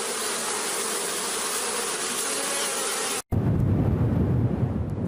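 Honey bees buzz in a loud, dense, continuous hum that cuts off abruptly for a moment and then resumes with a deeper, rougher drone.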